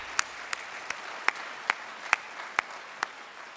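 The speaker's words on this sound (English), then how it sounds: "Let's have a round of applause for our JROTC students" A few audience members clap for high school JROTC cadets after a color guard presentation at an armed services awards ceremony: sparse, evenly spaced single claps in a quiet hall.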